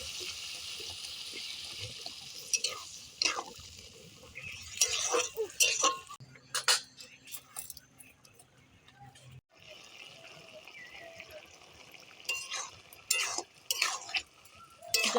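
Water poured into a cooking pot of greens with potatoes, close splashing and trickling in short bursts with a few clinks between quieter stretches.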